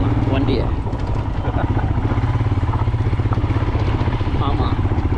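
A motorbike ridden along a trekking trail to a waterfall point in Chikkamagaluru, its engine chugging loudly and close with rattling clatter, while people talk over it.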